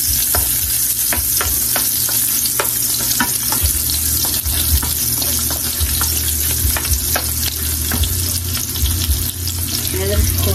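Lots of garlic sizzles in a hot pan while shrimp pasta is cooked, giving a loud, steady frying hiss with frequent sharp crackles and pops that continue unbroken throughout.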